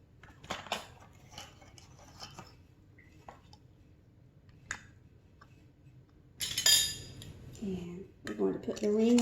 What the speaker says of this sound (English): Now, let's put on the flat lid.